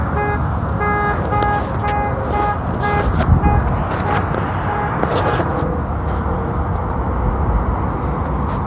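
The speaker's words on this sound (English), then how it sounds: "Those kids are having so much fun honking the horn." Kids honk a car horn in repeated short toots at an irregular rhythm over a steady background rumble, the beeps fading out partway through while the noise continues.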